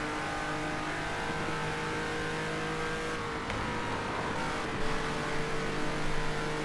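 A car engine in a racing video game drones and revs steadily at high pitch, with gear changes briefly dipping and climbing the tone, loud and continuous with no talking.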